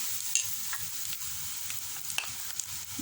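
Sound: idli coated in batter frying in oil

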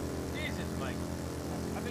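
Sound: motorcycle engine in video game Ride to Hell: Retribution

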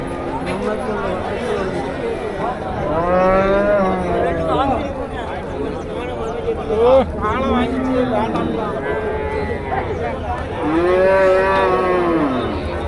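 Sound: cattle and bulls mooing at a cattle market

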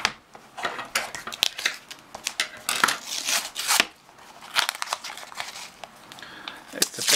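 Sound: unwrapping paper packaging during unboxing

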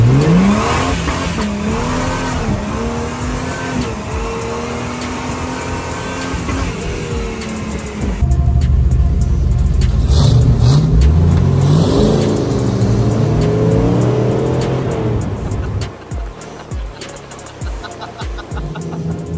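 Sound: cars drag racing, Jeep Gladiator

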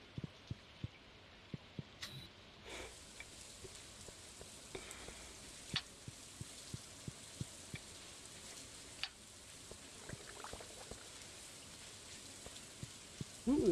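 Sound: rain in a video game

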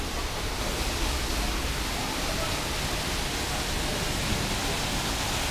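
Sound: waterfall in Panxi restaurant garden

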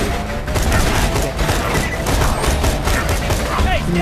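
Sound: gunfire in video game Borderlands 2

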